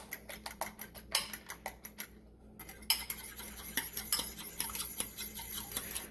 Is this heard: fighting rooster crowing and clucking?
no